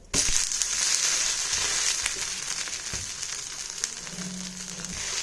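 A white sorghum dosa sizzles loudly and steadily on a hot pan, a bright continuous hiss with scattered crackles and a few soft knocks near the end.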